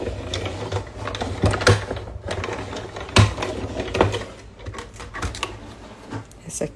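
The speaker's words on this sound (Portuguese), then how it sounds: "Na máquina de corte, eu vou cortar um círculo." A die-cutting machine presses a small circle die with a stitched edge through paper, giving a mechanical whirring and rattling with repeated clunks at close range. Some faint background sound runs underneath.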